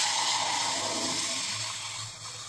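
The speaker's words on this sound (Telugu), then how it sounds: "వెంటనే వాటర్ వేయాలి" Water poured into a hot pan hisses loudly at first as a continuous rush, then gradually eases off over a couple of seconds.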